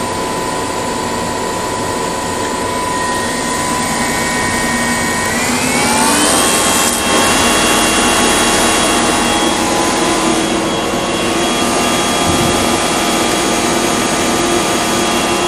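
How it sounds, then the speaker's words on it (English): An alternator on a lithium battery direct charge test spins up to a higher speed, giving a loud, steady, close whine and roar whose tone rises partway through and then holds, with no talking. "what I'm going to do now is increase the speed of the alternator"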